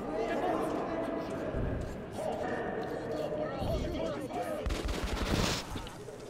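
A light machine gun fires in the video game Metro Last Light Redux, with dense rapid shots and clattering game sounds running throughout while someone talks over them.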